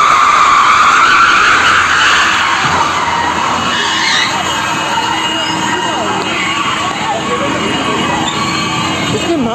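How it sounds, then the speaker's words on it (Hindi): A car being dragged along a road by a truck, producing a loud, sustained grinding screech with shifting squeals over rumbling traffic noise, continuous and harsh throughout. "उनकी कार को लगभग आधा किलोमीटर तक घसीटता हुआ ले जाता है"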